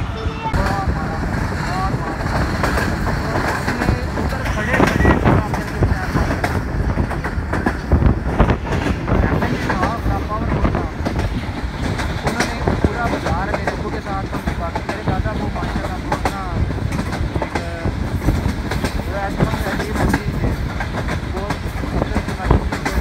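Millat Express passenger train running on rails near Faisalabad under a caution order, speed rising and falling, with a steady loud rumble and clatter of the carriages and some wind buffeting on the microphone throughout.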